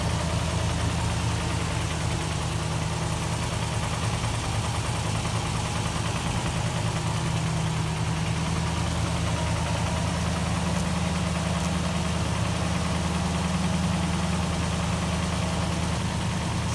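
A 1968 Rover P5B V8 idles steadily with the choke on after a winter break, a continuous low, even rumble with a faint knocking texture, loud and close throughout with no talking.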